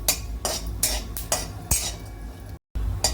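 A spatula scrapes and clinks against a pan while grated coconut roasts in a little oil, in steady repeated strokes roughly every half second, close up, with a brief silent break near the end.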